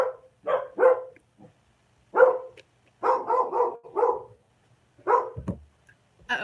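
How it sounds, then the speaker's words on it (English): Dogs bark excitedly in short bursts, several sharp barks in quick runs separated by brief pauses, fairly close and loud, with a faint low hum beneath. "The dogs, they get like this anytime any of us get here."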